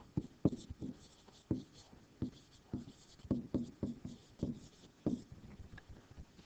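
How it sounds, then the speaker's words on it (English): Pen strokes scratching across paper while sketching a diagram for a calculus related-rates problem, a steady series of short close scratches and taps at an uneven pace, with no talking. "draw a picture if you have to"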